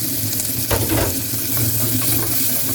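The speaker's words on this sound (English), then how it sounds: "while the rest of the ingredients are sauteing well, we will add in the mint leaves" Ginger garlic paste, mint leaves and a green chili saute in a pan for a beef curry-style dish, a loud continuous sizzle with a spatula scraping and stirring through it, without speech.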